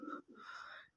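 Soft, close cooing from a pigeon feeding on grain, two brief low calls, quiet and alone.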